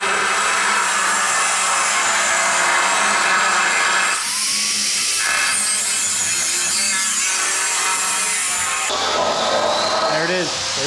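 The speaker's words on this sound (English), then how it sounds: "There it is. There's the first cut." Power tool cutting through a steel pickup truck frame to shorten it for a short bed swap; a loud continuous grinding, rasping whine shifts in pitch as the blade bites, with brief changes in tone between passes.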